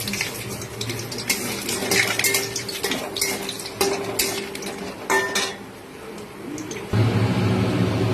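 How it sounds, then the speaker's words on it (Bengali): Lentil dumplings (bori) fry in hot oil in a home kitchen pan, a steady close sizzle punctuated by repeated metallic scrapes and clinks of a spatula stirring against the pan. "আগে বড়িটা ভেজে নেব।"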